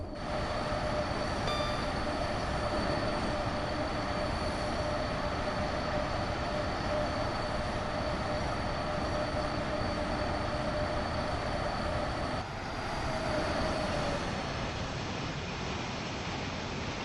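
A Class 90 locomotive in Train Sim World 6 rolls along with a steady rumble while its wheels give a sustained, high metallic squeal.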